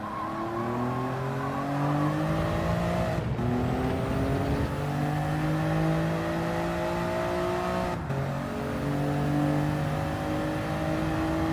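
A race car in Gran Turismo 7 with its engine droning loud and steady through a corner, pitch climbing in long sweeps and dropping sharply at two gear changes before rising again.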